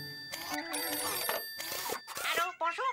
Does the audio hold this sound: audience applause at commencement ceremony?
no